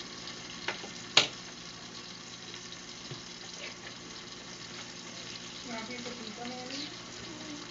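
Steaks and mushrooms frying in a pan, giving a soft, continuous sizzle close by with a sharp clatter near the start and faint murmured talk later.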